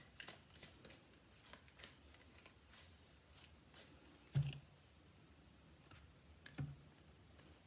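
Rider Waite tarot cards being shuffled close by, quiet rapid ticking riffles broken by a couple of sharper taps, with no talking.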